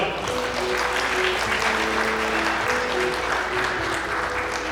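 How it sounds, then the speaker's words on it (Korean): Steady, dense applause from wedding guests in a hotel grand ballroom, unbroken for the whole stretch, with background music and a faint murmur of voices beneath it. "다시 한번 박수 주실까요?"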